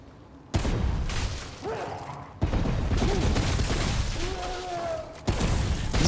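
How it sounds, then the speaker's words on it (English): Hunting rifle shots in the action shooter Remnant: From the Ashes, three sharp, loud reports spaced a couple of seconds apart, each followed by a rumbling tail, with faint voices in the gaps. "It's got a hunting rifle, it looks like."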